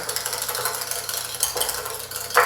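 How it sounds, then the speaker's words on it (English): Salad dressing whisked in a bowl to thicken it, giving a fast, continuous close swishing and scraping with a brief louder clink near the end. "if you're able to get a good whisk in there"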